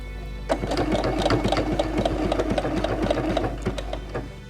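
A sewing machine stitching bias binding onto a knit fabric collar: a steady, fast mechanical chatter of the needle running close and clear for several seconds after a brief start, with no speech over it.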